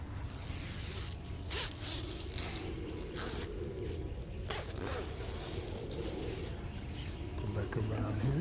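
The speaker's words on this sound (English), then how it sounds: "So we'll zip these back up to keep those birds out." Bird netting around a heavily fruiting blueberry bush is zipped closed, several short rasping zipper runs close by amid rustling of the net, outdoors.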